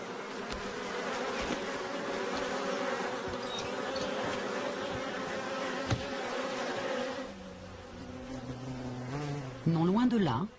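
Honeybee drones buzzing in flight during a mating flight, a steady dense insect drone lasting throughout, loud and close, with the pitch wavering and rising sharply near the end as one passes near.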